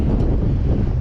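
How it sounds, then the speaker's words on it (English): A strong wind gust hits a small sailboat at sea during a small craft advisory on a Gulf crossing, giving a brief, loud, continuous rumbling roar of wind buffeting the microphone. "We had a gust come in"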